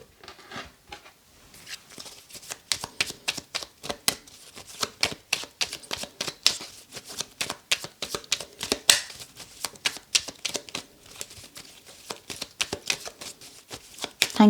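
Tarot cards shuffled in a long, steady run of crisp riffling clicks, close and fairly loud, with brief pauses between bursts and no talk over it.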